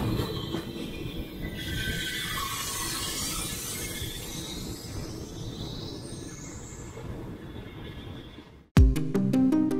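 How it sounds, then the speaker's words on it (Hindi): Long-distance train passing in Bangkok, a continuous rumble of rolling wagons with rattling wheels and faint squeals, fairly near, before cutting abruptly to different sounds at the end. "और ये है लॉन्ग डिस्टेंस की ट्रेन जो चलती है यहाँ पे।"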